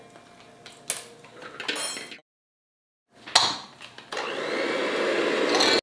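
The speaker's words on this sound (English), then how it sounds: "So you cream the butter." After a few clatters of bowl and utensils and a short silence, an electric mixer starts creaming butter, settling into a loud, steady whir that runs to the end.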